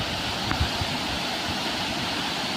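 Steady rushing water flowing through a rain-flooded field fills the scene, a continuous broadband wash with a couple of faint splashes, close and unbroken throughout.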